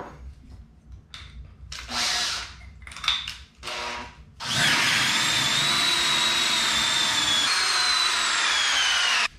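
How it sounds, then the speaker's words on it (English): A power drill revs in a few short bursts, then bores steadily and loudly through material for several seconds before stopping, drilling a hole for a barbell rack in a home garage gym. "So the next step is to drill that hole."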